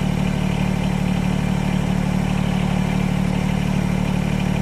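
A Massey Ferguson GC1710 compact tractor engine idles very slowly, a steady close clattering diesel rumble that holds even throughout with no talk over it.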